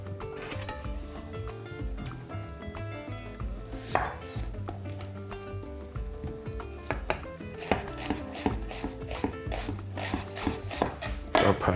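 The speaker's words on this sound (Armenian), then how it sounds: "Կտրատում ենք նույնպես կիսա օղակների" A knife chops an onion into half rings in quick, repeated strokes against a board, with tonal background music running underneath throughout.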